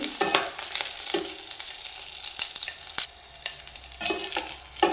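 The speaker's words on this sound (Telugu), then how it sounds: "ఆయిల్లో మిర్చి బాగా ఫ్రై అవ్వాలి." Green chillies fry in hot oil for peanut chutney, a steady crackling sizzle with bursts of sharp popping and stirring scrapes, close and continuous throughout.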